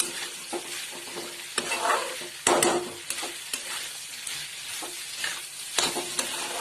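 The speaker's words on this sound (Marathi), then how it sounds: "गरम मसाला, परत मोठी आच करून 2 मिनिटं चांगलं फ्राय करून घ्यायचं" Ghevda beans fry with garam masala in a pan over high heat, producing a continuous lively sizzle layered with frequent scraping strokes and taps of a stirring spatula, close and fairly loud.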